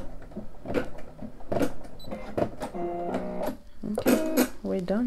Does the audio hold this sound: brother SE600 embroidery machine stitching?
yes